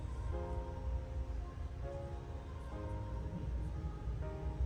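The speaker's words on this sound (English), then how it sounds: "Our train passes through New Haven State Street, pulling to a stop on Track 1" An Amtrak Vermonter passenger train rolls along near New Haven under overhead catenary, heard as a steady low rumble with faint sustained tonal hums, fairly quiet and even throughout, with no talk.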